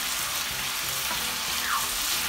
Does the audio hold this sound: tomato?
yes